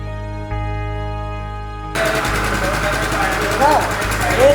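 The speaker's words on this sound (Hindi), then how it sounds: "सीज इंजन चालू कर दिया" A Honda GX160 small engine, freshly freed from a seized state, turns over and settles into a steady close idle with a buzzing, rattly drone, starting abruptly after a low hum.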